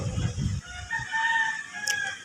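A rooster crows once, a drawn-out call rising and holding, preceded by low clucking and rumbling, fairly close on a farm in Gumaca, Quezon.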